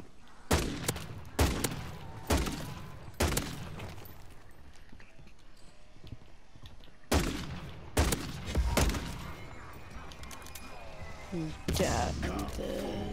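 A firearm in Call of Duty Modern Warfare 3 Zombies fires a series of loud, punchy shots, single and in short clusters, spaced irregularly across the stretch, with faint background game noise between them.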